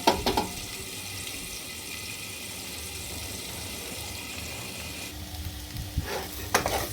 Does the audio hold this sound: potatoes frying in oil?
yes